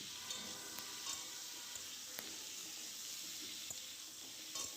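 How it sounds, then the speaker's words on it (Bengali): Cauliflower frying lightly with turmeric in a pan, a faint steady sizzle with a few soft clicks of stirring. "হালকা করে আমি ফুলকপি ভেজে নেব"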